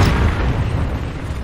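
A land mine detonates in a video game, a loud, close blast that stays as a dense, rumbling roar with no pause for the whole moment and no voices over it.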